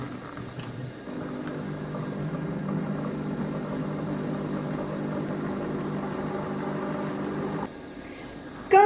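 A Compact Cook Elite kitchen machine hums steadily at close range with a smooth motor whir, then cuts off near the end, followed by a sharp click.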